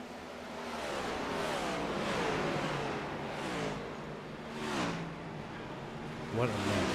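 Race cars in the iRacing simulator whoosh past one after another on the Indianapolis oval with rising and falling engine whines, several passes in quick succession, loud over a steady engine roar.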